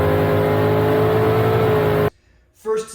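Supercharged Whipple-equipped 2003 Mustang Cobra engine roaring loud and steady at high revs for about two seconds, then cutting off abruptly into near silence before a brief faint burst of sound.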